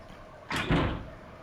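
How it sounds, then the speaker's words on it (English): Something slamming against a door in the horror video game Death Mark, one heavy muffled thud with a short rumbling tail over steady game ambience, no talk. "I hear a noise like something slamming against the door."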